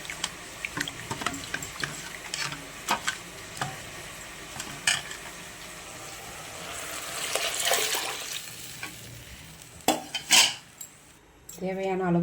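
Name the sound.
pouring tamarind and chili powder solution into curry pan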